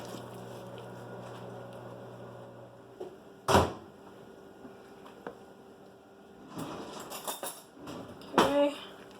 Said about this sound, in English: Get it out of the microwave.